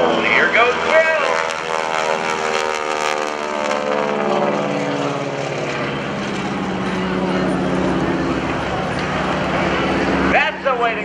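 An airshow propeller plane rolls a full 360 degrees at about 150 mph, its engine droning loud and close with a shifting pitch throughout, while an announcer talks over it.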